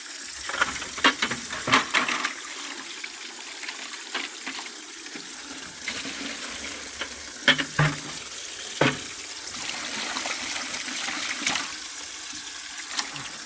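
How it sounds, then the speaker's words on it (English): Rinse water swirled and sloshed around inside a tile mortar bucket, a steady wet churning with occasional louder splashes and clunks, close up and without speech. "why does he keep doing that swirling the water shit?"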